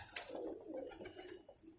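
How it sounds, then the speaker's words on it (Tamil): Pigeons coo softly in a coop, low rolling calls repeating under faint background noise, with a brief sharp click near the start and no one speaking. "மீதி இருக்கிற புறாலாம் இது தான்."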